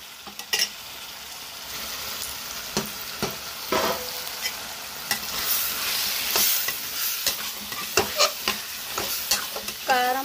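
Chicken curry with gongura sizzles in a pan as a spatula stirs and scrapes it in repeated, irregular strokes, with sharp clacks against the metal up close and no voices.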